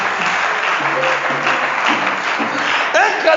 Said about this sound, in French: Acclame le Saint-Esprit, acclame le Saint-Esprit.